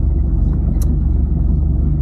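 A 1989 Honda CRX 1.6 non-VTEC with a D16A9 engine and 127,000 miles, on the road in Margate, Kent: a steady, loud low engine drone and road rumble from inside the cabin, with no talk.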